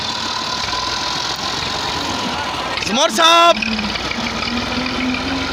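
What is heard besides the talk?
tractor engine running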